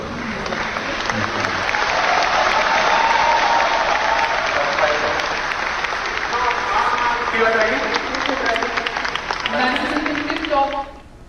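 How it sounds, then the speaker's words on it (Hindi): Loud, thunderous applause and cheering from a large crowd just after the countdown to the Aditya-L1 rocket launch, swelling early and then continuing densely before tapering off near the end, with voices mixed into the clapping. "ये तालियों की गड़गड़ाहट"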